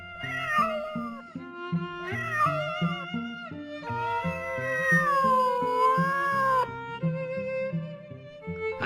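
A pet cat meows repeatedly in drawn-out, rising and falling cries, fairly close and clear, with short pauses between calls and one long wavering yowl in the middle.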